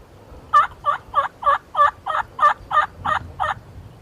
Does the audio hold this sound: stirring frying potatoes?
no